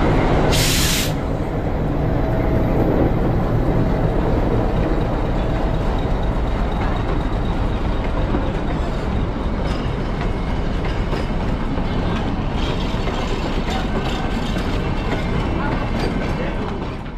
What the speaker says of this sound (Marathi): ट्रेन डिपार्ट झालेली आहे